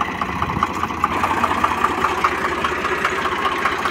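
A Swaraj 735FE tractor diesel engine chugs steadily with a rapid knocking pulse, running loud and close throughout as it jumps into second gear.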